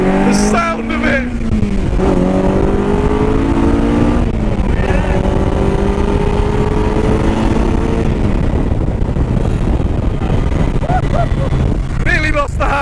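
Honda S2000 Indy RR's naturally aspirated engine revs hard toward 9000 rpm in rising, climbing pulls through the gears, loud and close with heavy wind roar, and a voice speaks over it in places.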